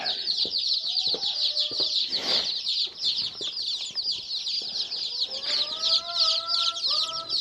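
Sex-link egg-laying hens cluck and squawk up close in the coop, overlapping calls over a constant chorus of chirping in the background.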